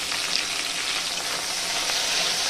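Tomato and okra frying in a pan after salt goes in, a steady close crackling sizzle that runs unbroken and fairly loud throughout, with no voices.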